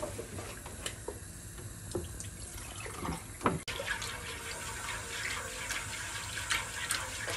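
Milk is poured into a flour roux for lasagna and stirred briskly, giving soft liquid splashing and pouring with scattered spoon taps against the pan, fairly quiet and without speech.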